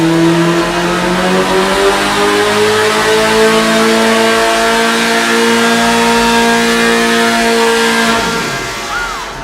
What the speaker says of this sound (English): This is the second dyno pull for the 1641.